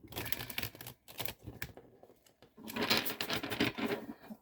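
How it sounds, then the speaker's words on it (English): Tarot cards being shuffled by hand in quick riffling bursts of crisp papery flutter, close and fairly quiet, with a short pause between shuffles. "let's get it a good shuffle"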